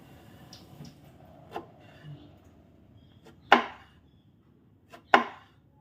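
A knife chops through eggplant on a cutting board for an eggplant omelette, two sharp distinct thuds standing out after a few softer cuts, close and otherwise quiet.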